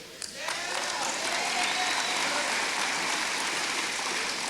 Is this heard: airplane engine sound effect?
no